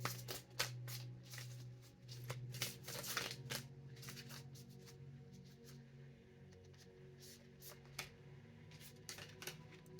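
Tarot cards being shuffled for a card reading: a continuous soft riffling and slapping of cards with repeated crisp bursts, quiet and close, with no voice.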